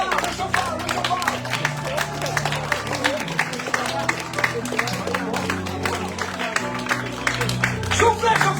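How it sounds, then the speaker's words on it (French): A church congregation claps loudly and steadily at a Sunday service, with dense rhythmic applause carrying on throughout while voices and music sound underneath. "Applaudissez le Seigneur, fortement."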